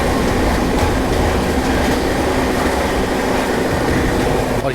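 Loud, steady rumble and rattle of the Jammu Tavi Humsafar superfast express running alongside and overtaking another train, heard from on board, continuous wheel and carriage noise throughout with no talking.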